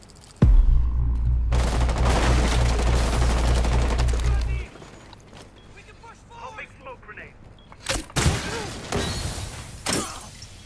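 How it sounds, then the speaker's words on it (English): Rapid, loud burst of light machine gun fire in Rainbow Six Siege, a sustained stream of shots for several seconds, then scattered impacts and shorter bursts with voices talking underneath. "This is an LMG, I've got 150 ammo."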